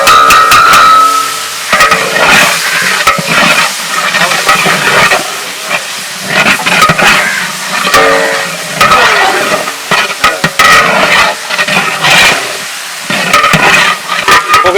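Ginger garlic paste fries in hot oil in a pan while quail biryani is being made, giving a steady loud hiss and sizzle with bursts of stirring and scraping throughout, and no voices.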